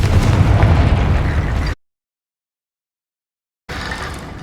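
In the video game Hogwarts Legacy, a Confringo fire spell explodes with a loud, dense blast that cuts abruptly to silence, then a second burst of fiery rumble returns near the end.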